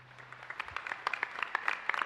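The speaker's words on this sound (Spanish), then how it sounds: "con ellos un fuerte merecido aplauso." Faint, scattered applause from a church congregation at a Mass in the San Blás parish of Itá, starting sparse and growing into light clapping over about two seconds.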